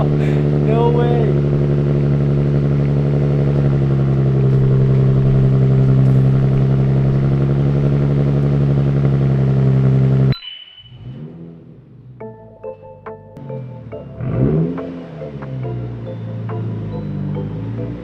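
A Z car with a TOMEI exhaust and an exhaust leak drones loudly and steadily for about ten seconds, then cuts off abruptly, followed by quieter scattered sounds and voices.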